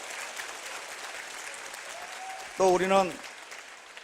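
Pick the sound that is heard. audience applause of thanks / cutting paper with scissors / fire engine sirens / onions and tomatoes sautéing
audience applause of thanks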